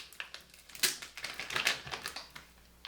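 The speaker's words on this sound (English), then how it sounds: "So I'm just going to take all of my transfer tape off best I can here." Transfer tape peeled off a vinyl stencil laid on glass for etching, giving a run of light crackly tearing and ticking bursts, close and fairly quiet, with no talk.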